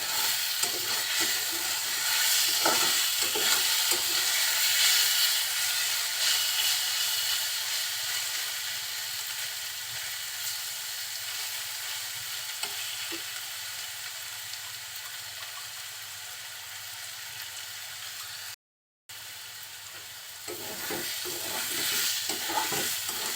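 Radish greens frying in oil with turmeric and being stirred, a broad constant sizzle and hiss with intermittent spatula scrapes, close and loud, briefly cutting out near the end before resuming, no talk.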